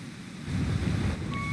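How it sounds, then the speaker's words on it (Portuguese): A steady rushing wash of falling water from a waterfall in the video game Zelda: Link's Awakening swells a little louder partway through, with a faint thin tone appearing near the end. "bifurcou a cachoeira"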